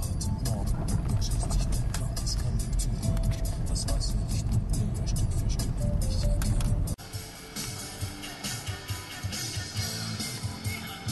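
A car creeping along a rough road away from a highway at about 20 km/h, a steady close engine and tyre rumble that drops in level partway through, with bumps and rattles afterward.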